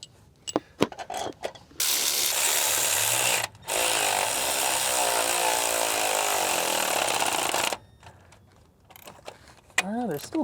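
A power tool drives cylinder head bolts on a Cadillac Escalade in a garage, two long steady whirring bursts with a short break, framed by clinks of metal and brief talk.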